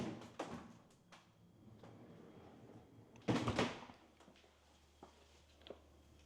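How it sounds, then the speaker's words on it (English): A pocket door separating the laundry room in a model home slides along its track in one brief, fairly loud rolling rush midway through, with a few light knocks and shuffles before and after in a quiet room. "Beautiful pocket door here, separating the laundry room"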